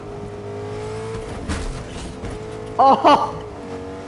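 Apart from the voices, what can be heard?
truck engine revving in Fortnite video game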